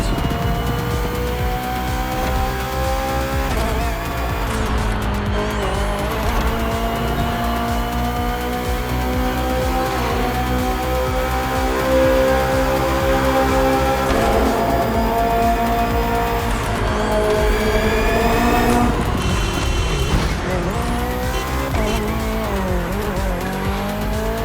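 A BMW M Hybrid V8, a 2023 endurance race car built for events like the 24 Hours of Le Mans, roars steadily through a driving game, its engine pitch rising and falling through gear changes, with occasional tire squeal and no talking.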